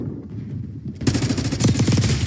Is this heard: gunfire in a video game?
yes